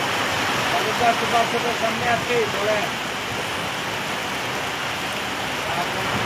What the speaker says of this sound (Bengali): সিলেট শহরে রাতে স্বস্তির বৃষ্টি শুরু হয়েছে, এরই সাথে ঝড় তুফান শুরু হয়েছে।